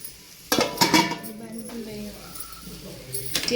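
Chicken fried without oil in a covered pan, with lid and pan clatter and metallic clinks over a low sizzle, a few sharp knocks close together and then a softer, steady frying hiss.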